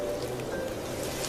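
Heavy rain in a narrated story set at night in a town, with cold wind blowing the downpour. A steady, dense hiss of rainfall continues without break, loud and close, with no voices.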